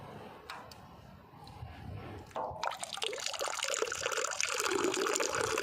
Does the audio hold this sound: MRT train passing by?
no